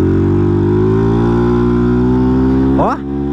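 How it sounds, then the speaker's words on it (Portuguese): Honda Titan 150 carbureted motorcycle fitted with an SFX F-22 exhaust, engine held loud and close at high steady revs that climb slowly, then a sharp blip and drop back toward idle at the end. "Fico louco com esse escape aqui"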